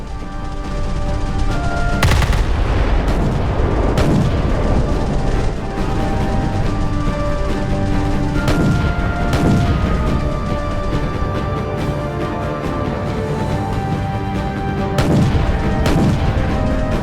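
Naval gunfire striking a ship in the Roblox game Naval 1945, with the HMS Warspite under fire: heavy booming impacts land every couple of seconds over a loud, steady roar of engine and sea noise.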